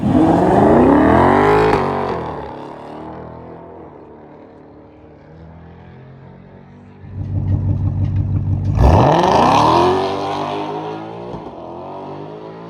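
Ford Mustang FP800s with an automatic transmission launching hard, a loud engine roar sweeping up through the gears, easing off, then a second aggressive surge with rising revs and a sharp upshift, close and dominant.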